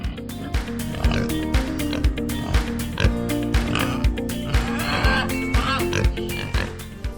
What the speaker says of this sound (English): many had escaped or been released, becoming feral pigs